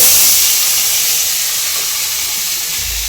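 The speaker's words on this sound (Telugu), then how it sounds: "ఎర్రగచ్చేదాకా ఫ్రై చేయాలి. ఇట్లా కాల్చుకోవాలి." Cucumbers frying in hot ghee give a loud, steady hiss that fills the whole stretch and eases off slightly toward the end, with no talking.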